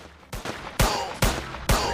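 A small gun fires four loud, evenly spaced shots at aliens, each a broad burst that rings briefly before the next, with no talking.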